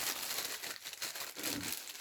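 A plastic bag crinkles continuously as a delivered item is pulled out of it, close and fairly loud, with rustling bursts and no speech.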